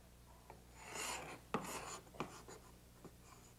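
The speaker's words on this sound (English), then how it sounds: "I use this file to sharpen this really simple scraping tool" A hand file rasps against the edge of a simple metal scraping tool while it is sharpened during parquet floor refinishing, giving several short, close scraping strokes with brief gaps between them.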